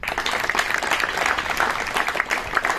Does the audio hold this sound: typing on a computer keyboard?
no